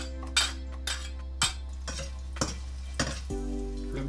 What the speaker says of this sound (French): petit filet d'huile, on y met l'ail.